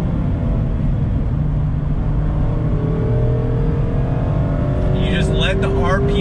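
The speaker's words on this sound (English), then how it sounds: "Great sound on the brakes, downshift, doing the business." A 2019 Mazda MX-5 Miata Club engine hums steadily inside the cabin, with a brief rev and burbling downshift under braking near the end; a voice talks over it.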